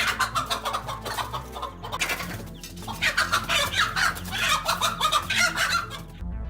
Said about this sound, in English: She aggressively chased the cobra away, squawking loudly and flapping her wings to create a barrier between her brood and the predator.